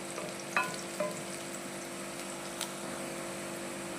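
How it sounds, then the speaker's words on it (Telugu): Onions frying in a pan for a mutton gravy, a steady close sizzle with a few sharp pops and crackles near the start, with no voices. "ఆనియన్స్ అయితే చక్కగా ఫ్రై అయిపోయాయి కదా"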